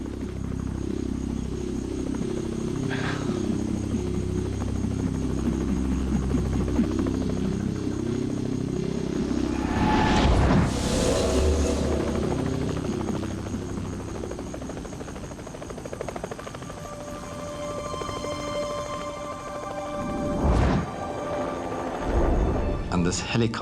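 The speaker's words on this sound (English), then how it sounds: "And this helicopter comes flying in from our left." A search-and-rescue helicopter flies in from the left, its steady rotor thrum loud and continuous throughout, with brief gusty bursts partway through and near the end.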